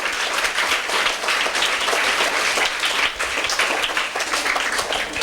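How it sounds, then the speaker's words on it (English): A crowd gives Pastor Brown a round of applause at a public event about completed temporary classrooms, with loud, continuous clapping that fills the whole moment without a break. "I want to give a special round of applause to"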